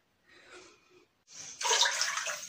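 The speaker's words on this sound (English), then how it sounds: "I'm just gonna put some fresh water in the sink" Fresh water from a tap runs into a bathroom sink, starting after a brief softer sound and then pouring steadily and fairly loud near at hand.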